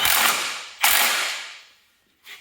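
A ratchet tightening a carriage bolt on a Cub Cadet steering box: two close bursts of rapid mechanical clicking, each fading out, then a short pause and a brief third burst, with no voice.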